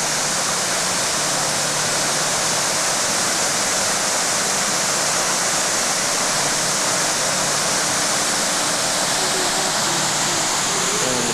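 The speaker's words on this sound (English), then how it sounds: "And the babbling brook." A babbling brook runs beside a wilderness lodge, its water rushing in a steady, loud, unbroken hiss throughout, with no voices over it.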